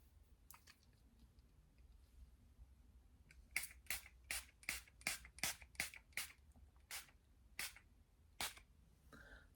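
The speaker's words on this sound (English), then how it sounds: "I'm actually gonna spray my face first with some setting spray" A Collection setting spray is pumped onto a face, a quick run of about a dozen short, crisp spritzes close to the microphone, bunched together in the middle of an otherwise quiet stretch.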